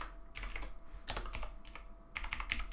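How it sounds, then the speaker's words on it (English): Typing on a computer keyboard while writing code, close and quiet, with several quick bursts of keystrokes separated by short pauses. "You'll see when I'm typing it out"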